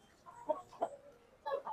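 A young rooster about 10–11 months old, weighing around 2–2.5 kg, gives a few soft clucks: three short close calls spread across a quiet moment.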